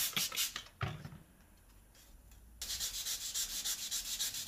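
A painted aluminium frame of an Aprilia RSV 1000 Factory motorcycle is sanded by hand in rhythmic, close rubbing strokes, pausing briefly before a fast run of steady scrubbing.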